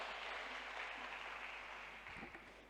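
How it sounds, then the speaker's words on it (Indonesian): A church congregation applauds during a worship service, a dense, steady wash of many hands clapping at close range that eases slightly toward the end, with no talk over it. "Berikan tepuk tangan yang paling meriah dong buat Tuhan kita."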